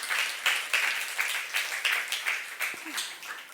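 A church youth congregation at a Korean Saturday service claps in uneven bursts, several rhythmic waves of hand claps rising and falling, fairly close, with murmured voices mixed in.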